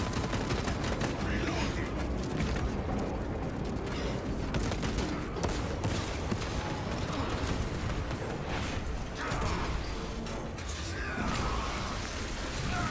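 Sustained turret gunfire in a siege-mode building game, a steady dense rattle of shots with clanking mechanical noise running throughout, loud and unbroken.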